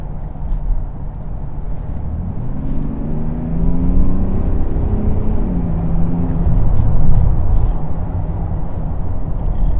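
A Mercedes GLS 400d with 330 horsepower and 700 Nm of torque accelerates in comfort mode, its engine drone rising smoothly in pitch and growing louder over several seconds, with no talk.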